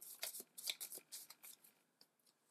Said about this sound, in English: we shuffle up the draft deck